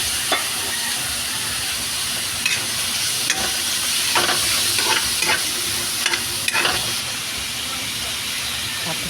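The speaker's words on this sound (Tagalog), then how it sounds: "Naggisa muna ako ng bawang sibuyas sa mainit na mantika." Garlic, onion and shredded boiled chicken breast sauté in hot oil for chicken macaroni soup, making a dense, continuous sizzle broken by scattered clinks and scrapes of stirring, close and loud.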